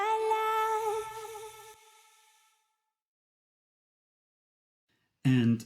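Stacked lead vocal with backing harmonies edited in Cubase, a sung harmonic line with layered voices for about two seconds that fades out, then silence before a brief loud burst of sound returns at the end.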